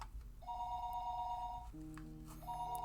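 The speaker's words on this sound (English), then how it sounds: "The phone rang noisily downstairs." A telephone rings downstairs in a house in the Higurashi When They Cry visual novel, a sustained electronic bell tone pulsing in two-tone bursts, fairly clear over a low background hum.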